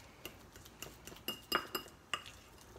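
Egg, mayonnaise, pickle juice and mustard being stirred together in a bowl for a holiday appetizer, with scattered light clinks and taps of a utensil against the dish, several sharper knocks between softer scraping, close and fairly quiet.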